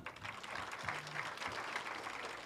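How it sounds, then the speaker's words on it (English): Audience at a recognition ceremony applauding students and their teachers and mentors, soft, steady clapping at a moderate distance throughout. "If we can give them a round of applause."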